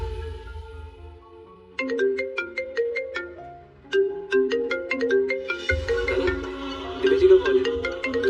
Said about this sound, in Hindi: दिव्या जी का कॉल है, तो उठाना।